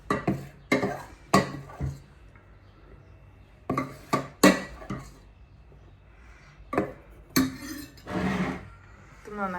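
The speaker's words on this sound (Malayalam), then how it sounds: "നന്നായിട്ട് മിക്സ് ചെയ്യും" Eggless tea cake batter is stirred in a bowl, giving close, repeated bursts of scraping and clinking against the bowl with short pauses between strokes.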